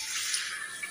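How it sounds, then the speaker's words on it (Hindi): A little water splashes into spiced masala in a cooking pan for aloo matar, a brief, faint hissing pour lasting under a second. "थोड़ा सा पानी डाल देंगे"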